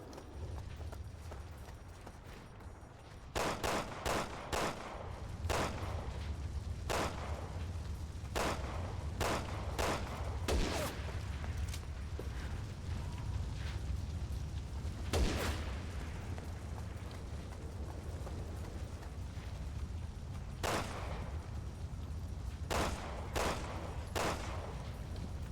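Sniper gunfire rings out in Resident Evil 6, a string of sharp, separate cracks at irregular intervals over a low steady background hum, fairly faint and distant.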